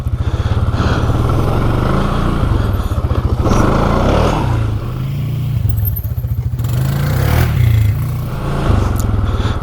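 A Can-Am Outlander PRO HD7 ATV accelerates hard on grass with some wheel spin, its loud, close engine revving and surging in waves throughout, with faint clattering underneath.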